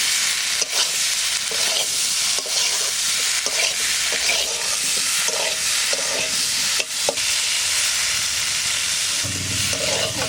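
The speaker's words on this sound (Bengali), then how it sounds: "এবার আলুটা দিয়ে দিচ্ছি।" Potatoes drop into hot oil spiced with cumin, coriander and dried red chili for a duck egg curry, setting off a loud, close sizzle with repeated scraping and stirring strokes throughout.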